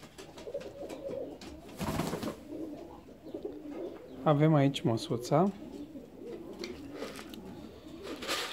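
Indian fantail and Saxon swallow pigeons coo in a short burst of two or three rolling calls midway, near and clear, among light rustles, while a person speaks briefly.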